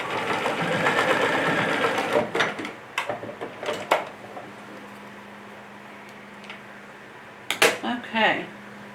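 A sewing machine stitches bag handles in a rapid whirring run for the first few seconds, followed by scattered clicks and handling knocks, a short second burst of stitching near the end.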